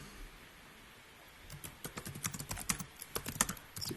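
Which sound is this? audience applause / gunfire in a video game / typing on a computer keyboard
typing on a computer keyboard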